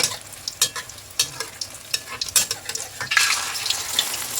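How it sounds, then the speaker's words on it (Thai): Beaten egg hits hot oil in a pan over high flame for a Thai-style omelette, giving a loud, steady crackling sizzle with scattered spatula scrapes and pops that swell toward the end. "ไฟร้อนแล้วใส่ไข่ลงไปเจียวเลยค่ะ"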